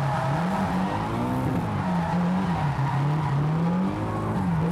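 A drift car corners at Honjo Circuit, its engine droning loud and close with the pitch rising and falling as the throttle changes, while tires squeal continuously through the slide, no talking.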